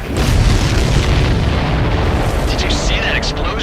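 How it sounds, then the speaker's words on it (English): An explosion in the flight combat video game Ace Combat 7 during a mission against enemy supply ships, a loud sustained booming roar with crackling debris and brief higher bursts near the end. "Did you see that explosion?"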